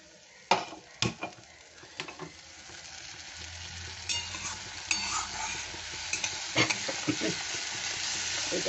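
Dal sizzles and fries in a pan with vegetarian aubergine dal ingredients, a soft steady hiss building over several seconds while a spoon scrapes and taps against the metal pan in scattered strokes.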